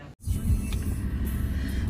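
Car engine rumbling from inside the car, a steady low drone after a brief cut at the start, heard alone.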